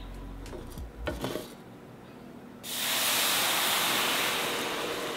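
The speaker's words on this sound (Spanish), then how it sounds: "en este punto aquí le vamos a poner agua." Water poured into a hot pot while cooking a squash horchata drink, a sudden loud hissing, sizzling rush that starts after a few soft clinks of utensils and keeps roaring steadily to the end.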